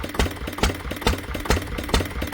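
An old Ruston Hornsby diesel engine idles slowly at about 300 rpm after a cold start, with loud, evenly spaced heavy thumps about every half second, close by and with no voices.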